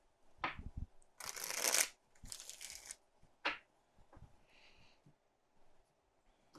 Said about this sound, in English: give these one shuffle